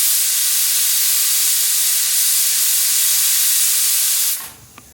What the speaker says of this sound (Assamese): আৰু মই এটা হুইচেলে মাৰিছোঁ